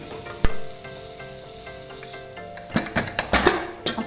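Cooked chicken dropped into a pan of roast masala, a continuous sizzle and fry that swells into several louder bursts of spitting and stirring near the end, with no voices.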